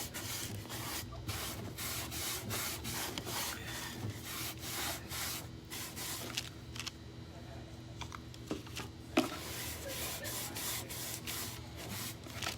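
Wax rubbed by hand into painted furniture, with continuous brisk scrubbing strokes repeating in a steady rhythm, close and fairly quiet, with one sharper knock partway through.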